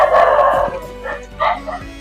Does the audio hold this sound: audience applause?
no